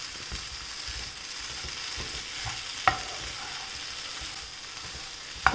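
Bitter gourd being stirred in a frying pan, a soft continuous sizzle with faint scraping and a couple of sharp utensil taps against the pan, steady and close throughout.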